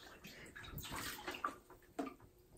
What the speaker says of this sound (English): you'll want to push it down under the water